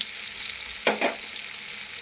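New potatoes and ground spice paste fry in a pan with a steady, close hiss, broken near the middle by two brief scraping stirs, no voices.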